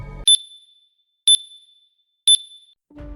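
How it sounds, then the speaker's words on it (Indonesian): An old gong rings by itself in a sound effect: three clear metallic strikes about a second apart, each with a short shimmering decay into near silence. "Tiba-tiba gong itu berdentang sendiri"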